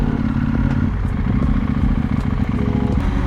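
A KTM 890 motorcycle rides down the steep, winding curves of Lombard Street, its engine a steady, close, low rumble with light clatter and scraping throughout.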